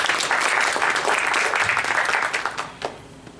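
Sustained audience applause at a conference session on Islam and Muslims, loud and dense throughout, then thinning toward the end with a few final scattered claps.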